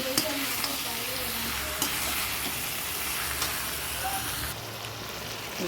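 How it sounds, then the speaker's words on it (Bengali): Marinated chicken stir-fried in a pot for a home-cooked meal, with a dense, continuous sizzle and occasional scraping stirs. The sound is close and steady, and no one speaks. "দেখো মাংসটা কষানো হচ্ছে এখানে"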